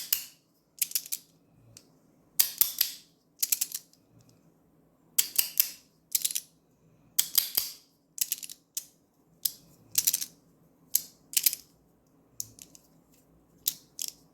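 A 3D printed fidget toy clicks in sharp, crisp bursts, some single and some in quick runs, close up with short silent gaps between them and no talking.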